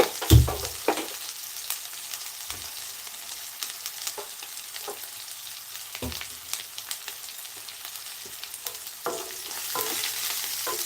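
Onions and green chillies fry in oil for a broad bean curry, a steady close sizzle broken by scattered clicks and scrapes of stirring, with a sharp knock at the start and no talk.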